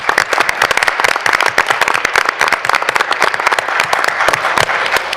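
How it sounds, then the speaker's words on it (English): Close, loud applause from a small audience at a school redistricting presentation honoring committee members, individual sharp claps distinct and irregular, sustained at steady intensity throughout. "and they deserve a round of applause."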